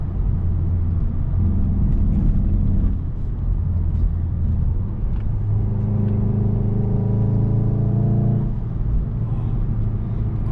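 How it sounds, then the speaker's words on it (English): A Mk7.5 Volkswagen Golf R engine drones steadily from inside the cabin, its pitch rising and falling with the revs, with a faint extra whir from an aftermarket intake. "I have the intake in, and it just makes a little bit extra noise."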